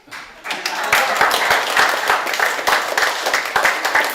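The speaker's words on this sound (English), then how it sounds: "I think that deserves a clap" Audience clapping at a casual talk, a steady patter of many hands with sharp individual claps standing out, fairly close and sustained for several seconds with a murmur of voices underneath.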